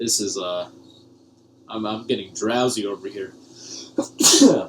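After some talking, a person gives one sudden, loud sneeze close to the microphone.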